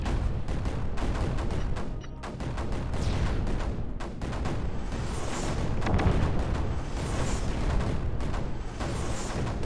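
Cannons in the strategy game Creeper World 4 fire nonstop, a dense barrage of overlapping booms and thuds forming a loud, continuous rumble.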